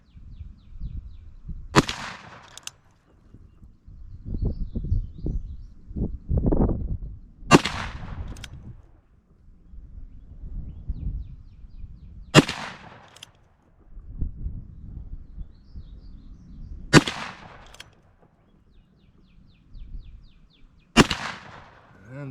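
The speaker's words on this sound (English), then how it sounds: "But let's go ahead and fire these last rounds." A Ruger New Model Blackhawk revolver fires .357 Magnum rounds outdoors, five sharp, loud shots spaced several seconds apart, each with a brief ringing tail, with low rumbling handling noise between.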